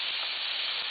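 Onion sizzling in a hot skillet on a stovetop, a steady loud frying hiss that stays even and continuous throughout, with no talking over it.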